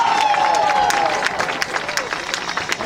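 Crowd applause and scattered cheering in the stands at a college homecoming football game, a dense sustained clapping that tapers slightly near the end, with a voice briefly over it at the start.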